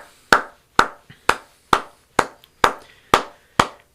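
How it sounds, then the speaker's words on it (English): A single person claps hands alone, eight sharp, close, loud claps in an even, unhurried rhythm with brief quiet between each. "I'm going to take a moment and clap."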